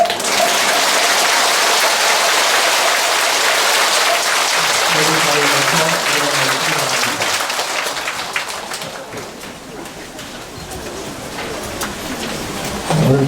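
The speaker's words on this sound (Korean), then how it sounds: "오늘 좋은 법문 해주신 해국 큰 스님께 다시금 감사의 큰 박수 드립니다" An audience at a Buddhist temple service applauds a monk after his sermon, loud dense clapping that gradually thins out while a voice speaks over it, then dies away before a faint stir of renewed sound.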